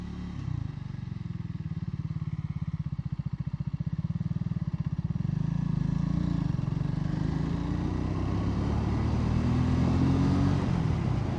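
A Triumph Speed 350 motorcycle rides along, its single-cylinder engine thudding in a fast, even pulse that then rises into a smoother, louder drone as it accelerates, close and unbroken with no talking.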